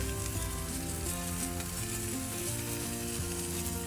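Onion and garlic skins sizzle on a charcoal grill under jerk chicken and pork, a steady dense frying crackle that runs loud and unbroken throughout, with no voices.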